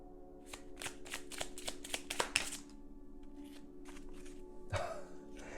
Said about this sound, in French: on va prendre le petit oracle by Fanny Féerie des heures miroirs